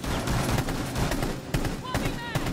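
Dense, rapid gunfire from the video game Rainbow Six Siege, with bursts and sharp cracks running through the whole stretch, loud and close, while players talk over it.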